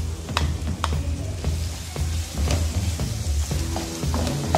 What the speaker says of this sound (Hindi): चिकन को भी अच्छी तरह से मिक्स कर लें इसमें